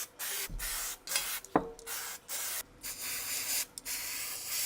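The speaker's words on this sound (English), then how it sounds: "The parts are rinsed, dried and cleaned with an aerosol solvent, exposing clean but damaged steel." Aerosol solvent hisses in a series of short, close sprays with brief pauses between them, cleaning rusted steel parts of a WWII K98 bayonet, along with a few faint rubbing and clinking touches.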